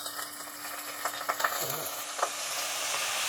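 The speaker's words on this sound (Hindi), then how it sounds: "ऑयल जब गर्म हो जाएगा हम इसमें चाँप डालेंगे।" About 400 g of lamb chops go into hot oil in a pressure cooker, giving a quiet, steady sizzle with a few soft scraping and stirring clicks.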